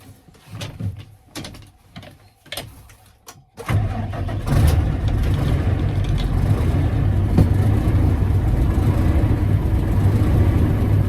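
A KhTZ tractor with a Deutz engine is started: a few seconds of clicks and cranking, then the engine catches and settles into a loud, steady idle close by.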